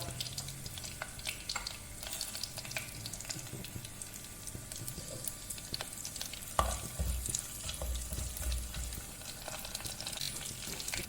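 Chopped shallots go into hot coconut oil with mustard seeds, dried chilies and cumin. A soft, quiet sizzle runs throughout, with scattered small crackles and a few louder stirring bumps, and nobody talks.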